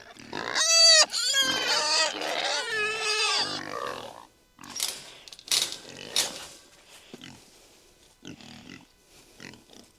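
Pigs squeal and grunt loudly up close, a burst of high squeals at first, then scattered snorts and oinks trailing off.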